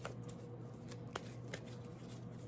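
Oracle cards shuffled by hand in a quiet room, with a soft continuous riffle and a few sharper slaps of the deck, close and fairly faint.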